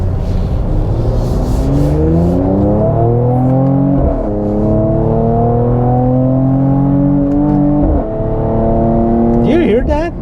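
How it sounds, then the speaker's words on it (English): The engine of a 2020 Mercedes-AMG C43 4Matic revs up repeatedly, rising and falling in pitch, loud and close, ending with sharp exhaust crackles and pops. "All of this coming out of this engine, this is unbelievable. Now that crackle at the end of it too."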